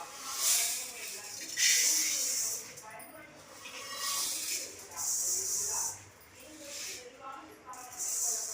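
Soaked rice frying in a pan gives off bursts of bright, hissing sizzle that swell and fade every second or so over a steady crackling bed.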